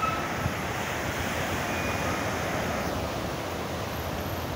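Surf washing onto a beach at dusk, a continuous broad roar of waves mixed with wind buffeting the microphone.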